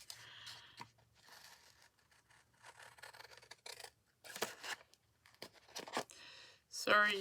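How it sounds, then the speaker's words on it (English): Scissors cut through paper while an envelope stack is being made. The snips come as quiet, irregular bursts between short pauses, with a brief faint voice and a sharper rustle near the end. "Sorry you get to watch me cut this out."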